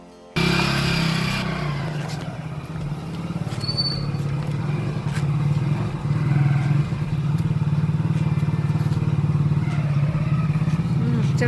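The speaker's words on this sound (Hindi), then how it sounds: "और अब ये रख रहे हैं गाड़ी अंदर।" A motorbike being pushed up into a home's gallery gives a continuous close low engine drone with scattered clatter and thuds, running steadily after a sudden start.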